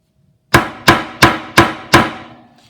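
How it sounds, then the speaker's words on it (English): A rawhide mallet strikes a steel stamp set on a metal piece, giving five sharp, evenly spaced, ringing knocks in quick succession that fade away after the last blow. "I'm going to take my stamp, set it on my metal, and I'm going to take my rawhide mallet, and that's a little bit noisy."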